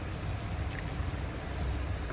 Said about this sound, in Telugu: కూల్ వాటర్ వేయండి.